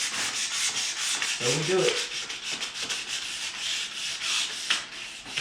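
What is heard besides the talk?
sanding wooden door panels by hand with sandpaper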